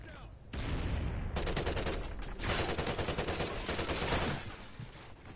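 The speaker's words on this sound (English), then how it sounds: "He shot me with a ripper." Rapid automatic Ripper gunfire bursts in Call of Duty, long sustained rattling volleys close and loud, with brief gaps between strings of shots and a voice talking underneath.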